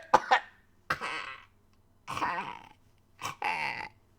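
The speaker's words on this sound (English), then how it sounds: "Like coughing like that?" A person coughs in four separate bouts, each a quick cluster of harsh, throaty coughs with short quiet gaps between them, close and clear.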